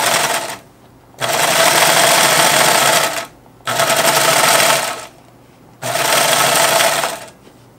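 A look-alike of the Sailrite Ultrafeed sewing machine, of unknown age and history and run with a plastic pedal, stitching in three long, loud, steady bursts with short pauses between them.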